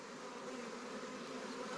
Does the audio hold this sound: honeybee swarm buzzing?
yes